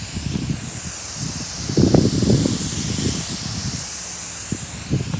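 A spray gun applies epoxy primer to a cab panel of a 1974 Ford F250 being restored, making a continuous close hiss over about five seconds with some handling noise beneath it.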